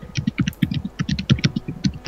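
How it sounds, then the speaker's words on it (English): Loud, rapid typing on a computer keyboard, a steady clatter of close keystrokes in quick uneven bursts with no one talking. "somebody's typing really loud"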